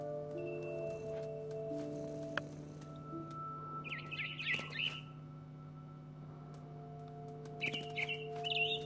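A mother bird chirps in What Remains Of Edith Finch, a video game, with two short bursts of high tweeting over a quiet steady hum and faint ambient rustle.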